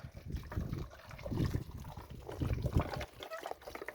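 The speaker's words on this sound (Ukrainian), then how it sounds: "І тепер виливаємо його, можна через фільтр про всяк випадок." Liquid fungicide solution poured through a filter into a sprayer tank, a continuous gurgling trickle of moderate loudness that swells and dips over the span, with no voices.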